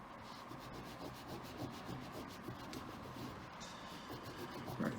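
A cloth held on a fingertip rubs in small circles over a spinner during hand polishing, giving a close, continuous soft scrubbing hiss with faint rhythmic pulses.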